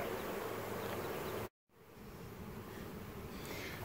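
Bees buzzing around a hive during a cell starter setup, a dense steady droning hum that cuts out abruptly for a moment mid-clip and then resumes at a similar level.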